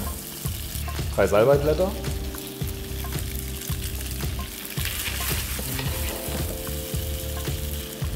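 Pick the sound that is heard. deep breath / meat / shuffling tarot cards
meat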